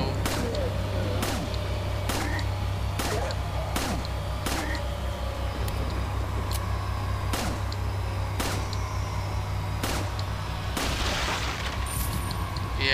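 Gunfire against Las Plagas creatures in Resident Evil 4, a dozen sharp single shots spaced roughly a second apart over a low droning ambient hum.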